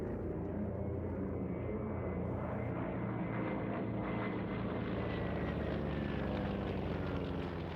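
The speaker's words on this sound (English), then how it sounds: "this actual Hellcat was the aircraft flown by the fourth highest scoring US naval ace of all time, Alex Vrashew" A WWII Grumman Hellcat fighter, the one flown by a leading US Navy ace, passes overhead at an air show, its piston engine a loud continuous roar with a slowly sweeping pitch as it flies by.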